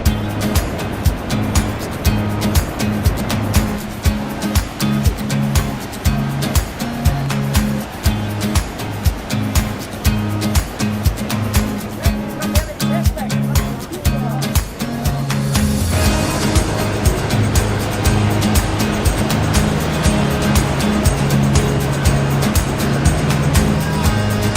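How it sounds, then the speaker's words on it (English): Iguaçu Falls on the Brazil–Argentina border roar with a dense, constant wash of falling water, loud and close, with rhythmic pulsing in the first half before settling into an even, unbroken rush. "you walk like out, and then you're like literally in a circle, and all you see is like waterfalls"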